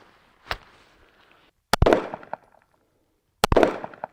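A gun fires three separate shots at a range, each a sharp loud crack with a short echoing tail, spaced more than a second apart against near silence.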